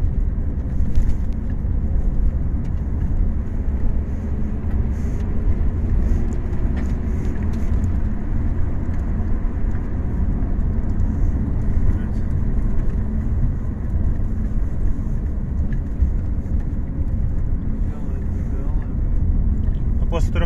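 A Nissan Cefiro A32 running on methane gas hums steadily from inside the cabin, a loud, constant engine and road drone with no clear rises or gaps.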